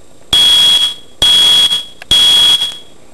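A smoke detector blares three loud, shrill, piercing test beeps after a new battery is fitted, each about half a second long, evenly spaced with short silences between.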